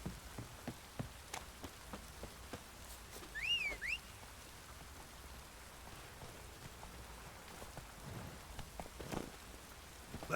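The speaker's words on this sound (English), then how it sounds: "Oh, it's drizzly." Light drizzle from The Witcher 3 falling as soft, steady patter across a game landscape, faint and continuous with scattered drop-like ticks and a brief whistling tone partway through.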